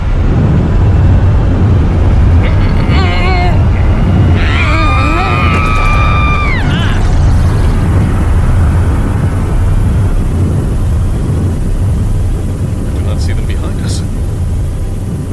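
A car speeds and roars with engine noise in an audio-drama chase scene under gunfire, a loud continuous rush with rising, sliding whines and screeches over it, and no voices present.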